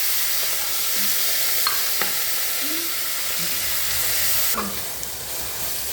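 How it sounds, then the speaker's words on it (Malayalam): Onions, tomatoes and green chillies with salt sizzle steadily in a pan for mutton curry. A loud, constant frying hiss runs throughout, with a few light scrapes and clinks from stirring, and no voices. "സവാള, തക്കാളിപ്പഴം, പച്ചമുളക്, ഇത് ഉപ്പും ചേർത്ത് നല്ലതുപോലെ വഴറ്റി കൊടുക്കാം."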